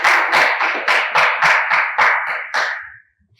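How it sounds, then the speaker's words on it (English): A debate audience at a school engineering event gives a short round of applause, about ten distinct swelling bursts of clapping over three seconds before stopping abruptly. "Please applaud them"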